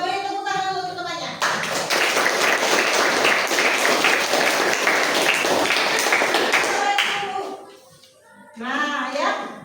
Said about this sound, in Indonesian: Oke, beri tepuk tangan dulu temannya